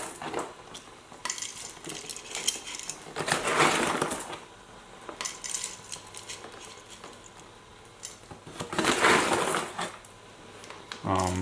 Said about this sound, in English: What you'll do is just pour the coffee directly into your grinder.